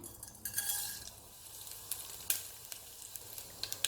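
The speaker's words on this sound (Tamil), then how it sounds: "நல்லெண்ணெய் சேர்த்துடலாம் தாளிக்கு எடுத்து வச்சிருக்க கடுகு உளுந்து சீரகெல்லாம் சேர்த்துடணும்" Mustard seeds, urad dal and cumin sizzle and crackle in hot sesame oil as a tempering for a Chettinad kuzhambu, with irregular sharp pops over a soft, steady frying hiss, close and fairly quiet.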